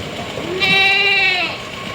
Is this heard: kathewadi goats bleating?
yes